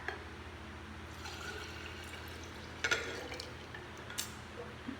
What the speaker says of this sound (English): you're gonna go ahead and pour it into your jar.